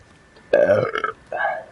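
A person burps twice in close succession indoors, a longer loud belch followed after a short pause by a second, shorter one, close and clear with no other talk.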